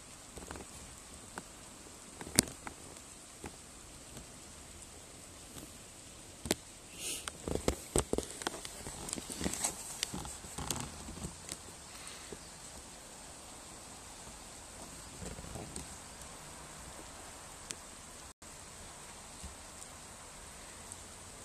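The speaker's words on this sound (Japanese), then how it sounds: "雨降ってきましたね。" Steady rain falls outdoors as a soft, continuous hiss with scattered drop taps and rustles, moderately quiet and without talk.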